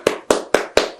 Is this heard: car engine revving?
no